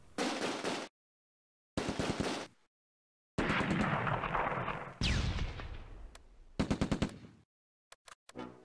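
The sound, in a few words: bazooka and gunfire in Close Combat: A Bridge Too Far video game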